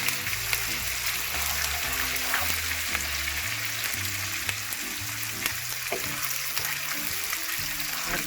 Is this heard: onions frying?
yes